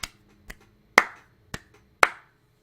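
Five sharp hand claps, spaced slowly and unevenly, with nothing else around them.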